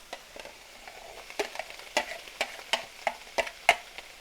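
Vegetable stalks go into a stir-fry pan with onions, producing a faint sizzle under a quick series of sharp spatula clacks and scrapes in an uneven rhythm, close by, with no talking.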